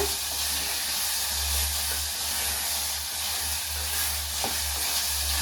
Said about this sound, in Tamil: பாசி பயிர் போட்டு நல்லா கலக்கலாங்க